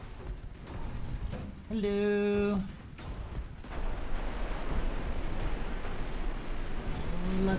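Ship torpedoes launched in the naval game Ultimate Admiral Dreadnoughts, heard as deep rumbling booms and bursts with a sustained horn-like tone, while a voice briefly speaks.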